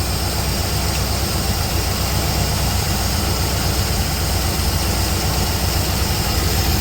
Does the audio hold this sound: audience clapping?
no